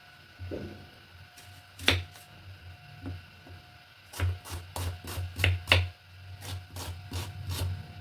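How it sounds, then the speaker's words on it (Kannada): A knife chops vegetables finely on a board for tomato rice, with a single sharp chop early on and then a quick run of rhythmic cuts, close and clear with no talking. "ಮೊದಲಿಗೆ ಇವೆಲ್ಲ ತರಕಾರಿನ ಕಟ್ ಮಾಡ್ಕೊಳ್ಳೋಣ"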